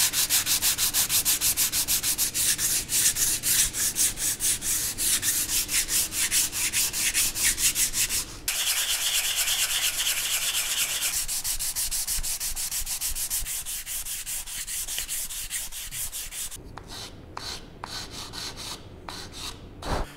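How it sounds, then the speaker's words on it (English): Steady rhythmic strokes of sandpaper rub back and forth across pine wood by hand, close up and continuous, with a brief pause and a change in pace later. "nothing fun about sanding"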